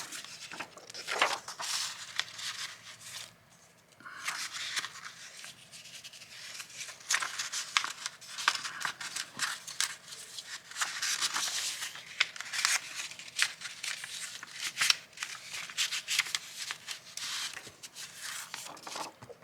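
Scissors snip and trim paper while an envelope folio is being made, giving a close series of quiet, irregular cuts and rustling paper sounds with occasional pauses.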